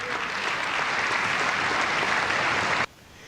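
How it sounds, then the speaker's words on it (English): Partisan audience applause at the 2026 State of the Union, a dense, loud wash of clapping that holds steady for nearly three seconds, then cuts off abruptly into quiet room tone. "Even the applause from the partisans on all this infomercials is dying down."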